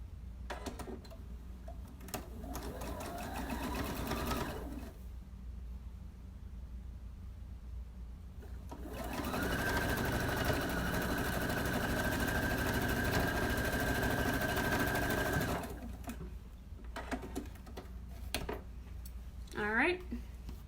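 A sewing machine stitches quilt pieces together, running in a steady mechanical whir for several seconds between stretches of a person talking, with softer handling noises around it.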